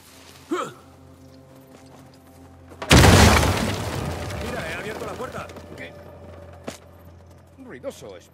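Dynamite blast in the video game Uncharted 4: a sudden loud explosion that erupts midway and rumbles down over several seconds, with brief voices and game sounds around it.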